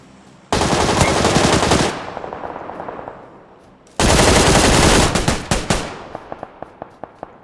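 Automatic gunfire in PUBG Lite: a loud sustained burst, a pause, then a second long burst that breaks into rapid single shots, each trailing off with a short echo.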